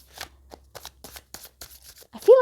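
Cards riffle and flutter in quick, light bursts, close and soft, ending with a brief higher squeak.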